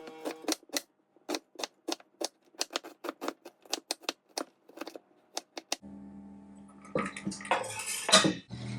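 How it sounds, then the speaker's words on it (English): A knife chops a small onion on a cutting board in rapid, evenly spaced sharp knocks close by, then butter starts sizzling softly in a pan beneath some clattering handling. "I'm gonna chop in 1 small onion"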